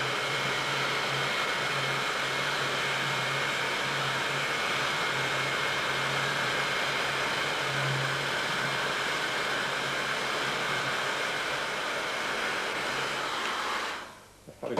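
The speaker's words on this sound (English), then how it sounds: "So the most efficient way to dry is with a hairdryer." A hair dryer drying a wine decanter blows with a steady, loud, breathy whir and faint motor hum for over thirteen seconds, then switches off near the end.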